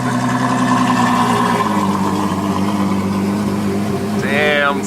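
Ferrari F12 Berlinetta V12 starting up and settling into a steady, loud idle with a deep droning rumble, a brief rising blip near the end, voices faint beneath.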